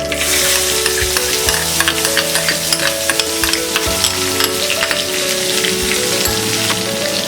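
Onion hits hot oil in a pan for a moong sprouts curry, crackling in a loud, dense, continuous sizzle with occasional louder pops, close and without talk.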